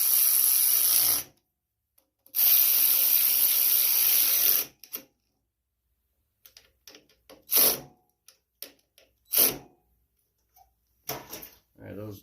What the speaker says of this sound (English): we're gonna go ahead and tighten these two nuts up